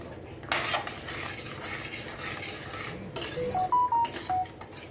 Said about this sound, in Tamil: தயிர் சேர்த்து கலக்கி கொடுத்துட்டு